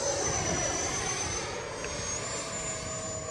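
RC delta wing model airplane flying overhead with a steady whining electric motor and propeller buzz, fairly close and even in pitch, heard alone with no voices.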